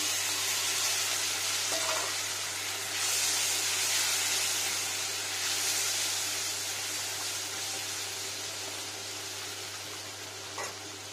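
Green chili, ginger and tomato puree frying in a pan for an okra curry, a steady close sizzle and hiss with occasional faint stirring clinks, no voices.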